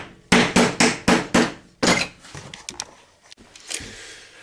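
A metal ring hammered onto a ball bearing in a workshop for a giant robot build: five sharp, evenly spaced metallic blows, then a heavier strike followed by lighter taps and clinks, close and loud.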